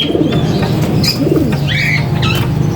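Tippler pigeons cooing in a loft, several soft low coos repeating close by over a steady background, with a few brighter bird chirps mixed in.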